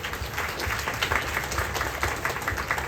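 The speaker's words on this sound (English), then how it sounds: "Give them another round of applause." A crowd gathered at an outdoor park religious festival claps for the organizing committee, the applause fairly distant and moderately loud, continuous with a rippling texture.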